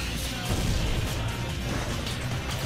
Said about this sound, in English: I can hardly hear his taunts over crashing of all the machinery